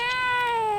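A female cat out in a garden gives a single clear, drawn-out meow, close and fairly loud, with only faint background beneath it.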